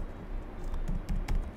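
Keys clatter on a computer keyboard during font outline editing, a short run of close, irregular taps and clicks over a noisy background.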